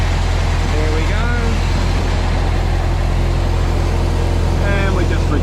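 A 1927 Model T Ford Tourer engine runs steadily on its internal magneto, a constant low idle-speed throb heard close up throughout, with someone talking briefly over it.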